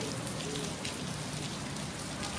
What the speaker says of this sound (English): I don't know where the rain just came from.